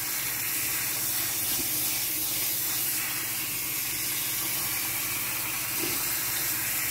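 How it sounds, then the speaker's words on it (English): Tap water pouring steadily through rice in a kitchen strainer, a constant loud hissing splash that runs unbroken for several seconds with no speech. "The more rice you have in the strainer, the more you want to rinse it"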